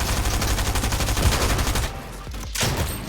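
Rapid gunfire from a video game arena match, dense rattling bursts of shots that fill the first two seconds, then a brief lull before more firing resumes.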